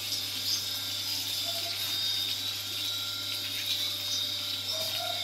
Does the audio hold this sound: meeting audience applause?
no